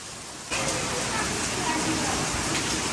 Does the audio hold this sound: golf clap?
no